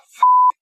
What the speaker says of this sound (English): Beep beep!